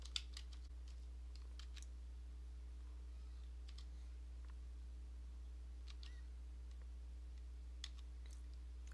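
Keys tap on a computer keyboard as a terminal command is typed on a Linux machine, short bursts of quiet clicks spaced apart over a low electrical hum.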